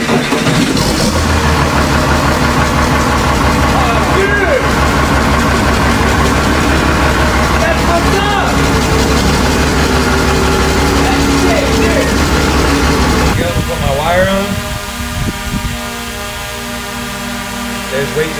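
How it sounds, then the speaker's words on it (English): A 12-valve common rail Cummins diesel cranks and fires up, then settles into a loud, steady, close idle with a rough low rumble. People talk briefly over it. "to hear a 12-valve common rail run"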